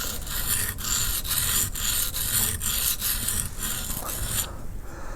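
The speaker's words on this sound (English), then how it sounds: "grinding from the tip round like this, bringing one sort of bevel" A woodcarver's skew chisel bevel is ground from the tip around, giving a steady close abrasive rasp pulsed by regular strokes, with no voices.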